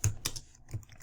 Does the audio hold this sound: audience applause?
no